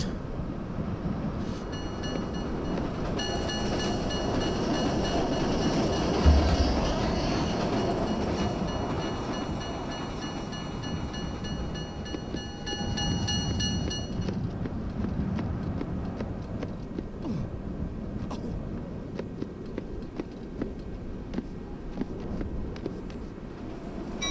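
Train passing in the video game Getting Up, a steady rumbling clatter of wheels on track with tonal whine, loud and continuous, easing slightly in the later part.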